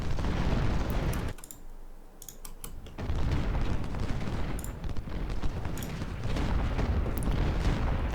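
Musket volleys and artillery fire in the Civil War strategy game Ultimate General: Civil War form a dense, continuous roar of crackling shots and booms, breaking briefly before resuming just as heavily.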